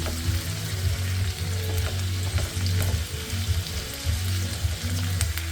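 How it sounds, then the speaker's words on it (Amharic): Vegetables fry in oil in a pan, giving a loud, steady close-up sizzle that crackles without a break, joined by faint stirring scrapes and no voices. "መጥበስ ነው በዛይቱ።"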